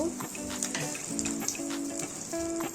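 Whole cumin seeds crackle and sizzle in hot mustard oil in a kadai, a busy steady hiss with light pops under faint background music.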